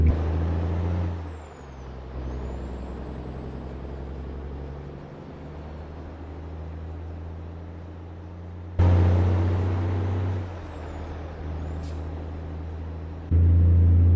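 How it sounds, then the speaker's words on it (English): A heavy truck in American Truck Simulator, with a modded engine, hisses its air brakes loudly, then its deep engine rumble builds as it pulls away. A second air brake burst and a renewed pull follow, with no talk. "maybe we'll listen to this thing pull away"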